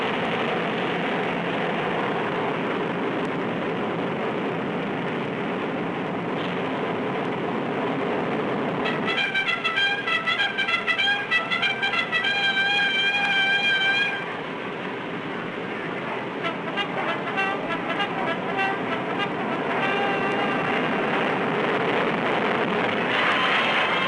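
A 100-ton Air Force aircraft takes off and climbs steeply, its loud, steady engine roar building into a whining, tonal drone midway and then continuing with no voices over it.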